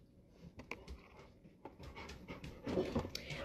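Several riled-up dogs pant rapidly nearby, mixed with occasional soft whimpers and breathy sounds, growing a little louder toward the end.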